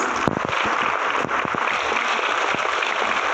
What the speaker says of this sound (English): So can you give yourselves a round of applause?